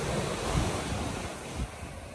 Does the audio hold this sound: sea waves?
yes